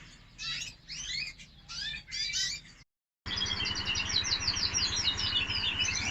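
Caged canaries chirp and trill in quick, bright bursts, then after a brief silence a dense, continuous twittering chorus carries on close by.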